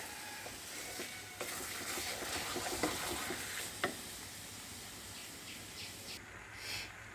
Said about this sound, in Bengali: ভালোভাবে নেড়ে নিতে হবে।